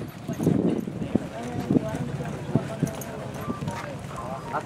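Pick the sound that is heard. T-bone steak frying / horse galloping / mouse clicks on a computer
horse galloping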